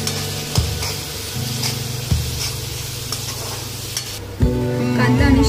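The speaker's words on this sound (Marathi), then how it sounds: "आता आपण टाकूया शिमला मिरची अँड लेट दॅट मिक्स। त्याला आपण 2 ते 3 मिनिटं शिजून घेऊया।" Capsicum frying in a hot pan for street-style pav bhaji, a steady sizzle with scraping stirs and a few sharper clanks of the spoon against the pan, close and continuous with no talking.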